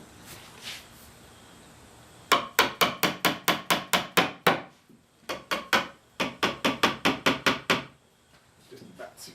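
A wooden spindle is tapped into a chair comb with a hammer in a woodshop, two long runs of rapid, evenly spaced knocks separated by a short pause, with faint sounds before and after.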